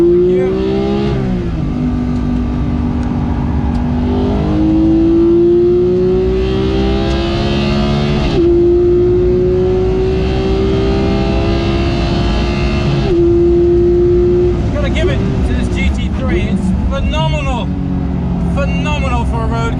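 A Porsche 991 GT3 on Michelin Cup 2 tyres is driven hard around a race track, its engine screaming up through the revs with sharp gear changes, loud and constant from inside the car, while someone talks over it.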